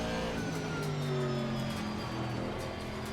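A GT4 race car in Assetto Corsa Competizione holds a loud, steady engine drone with strong harmonic tones that rise and fall slightly as it revs, continuous and close.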